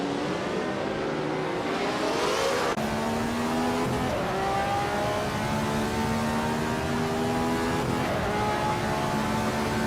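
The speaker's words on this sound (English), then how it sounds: "Rue for Life is leading the race in a 1967 Lotus 49" A 1967 Lotus 49 and rival cars in a video game race, engines howling continuously at high revs with rising and falling pitch as gears shift, loud and sustained with no talk.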